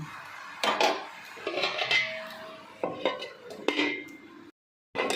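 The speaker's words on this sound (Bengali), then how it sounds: "আবার একটু নাড়াচাড়া করে নিয়ে আবার ঢাকনাটা চাপা দিয়ে দিচ্ছি।" Metal clatter of a lid settling onto a cooking pot of bottle gourd payesh, several sharp knocks and scrapes spread over a few seconds, close and fairly quiet, with brief silence near the end.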